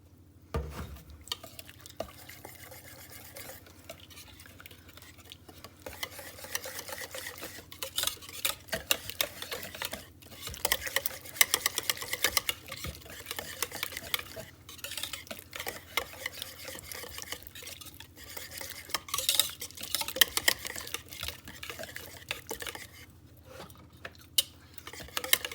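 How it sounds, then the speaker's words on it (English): Cream of coconut whisked with pineapple and milk in a bowl, steady clinking and scraping strokes of a whisk against the container, quiet and close with irregular rhythmic taps, no talk. "After you whisk all that together really good"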